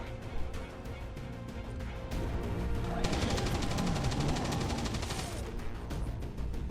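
In the XCOM video game, suppressive gunfire rattles in quick, dense automatic bursts that build into a sustained loud barrage.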